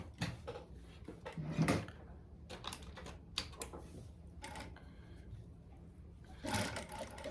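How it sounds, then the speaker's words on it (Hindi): A sewing machine stitches a dress in quick, uneven bursts, with a dense rattling hum broken by short pauses and a few louder runs, heard fairly close with no talking. "हमें ये पूरी इस तरह सिलाई मार लेनी है।"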